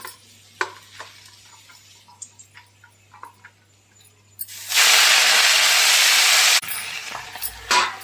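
Saag greens dropped into hot oil in a home kitchen burst into a loud, steady sizzle that fills the middle of the clip, after quieter clinks and handling sounds, then drops to a softer frying hiss with a few knocks.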